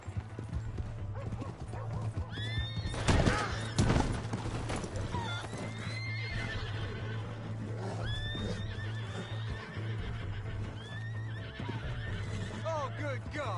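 Horses in a video game whinny several times and hooves clip-clop beneath a steady low background hum, while game characters shout and talk over the action.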